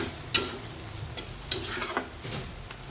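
Chopped onion frying in a pan with salt, being stirred as it browns, giving a soft steady sizzle broken by a few sharp scraping stirs.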